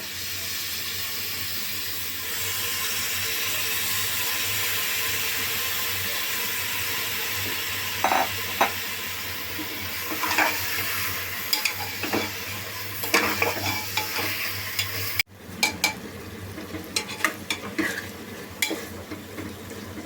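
Beef pieces fry and get stirred through a cooked paste of kabab chini, cinnamon and shahi jeera, a steady sizzle broken by scraping spoon strokes and scattered clinks of the pot, with no talk.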